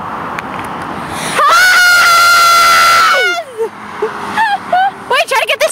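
A person lets out a loud, sustained scream lasting about two seconds close by, trailing off into excited voices and short shouts from a small group outdoors.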